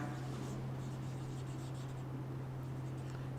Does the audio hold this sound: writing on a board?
yes